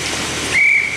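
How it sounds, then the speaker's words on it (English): A referee's whistle blows sharp and loud during a recreational C-division ice hockey game, one sustained piercing blast following a burst of broad rink hiss. "And we got a whistle."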